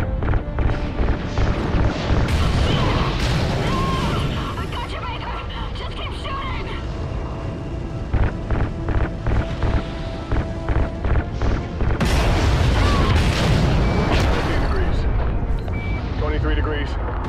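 Explosions as ignited RCS fuel lines blow in the Call of Duty: Ghosts space mission, loud rumbling blasts and crashes in two main surges amid game noise, with voices heard in places.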